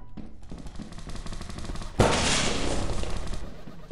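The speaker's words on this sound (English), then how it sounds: "was that the turret that shot me" Automated turret in Lethal Company opening fire on the player: a sudden loud burst of rapid gunfire kicks in halfway through and rattles on continuously, preceded by quieter ambient game noise.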